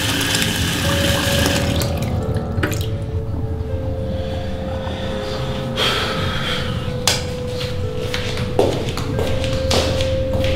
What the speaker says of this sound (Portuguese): não fui eu que abri a torneira